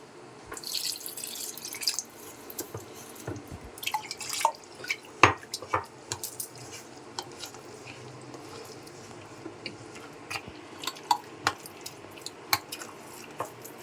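Water is added while semolina is worked together with curd for instant idli batter: scattered drips, small splashes and soft wet squishing from hand mixing, quiet and close with no talking.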